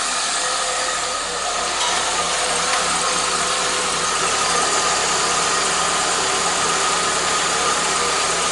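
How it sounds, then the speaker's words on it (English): A 1.6L engine in a 1997-1999 Toyota Corolla runs at a steady idle after a fuel filter replacement, its even mechanical hum and faint ticking continuous and close throughout. "And now it starts."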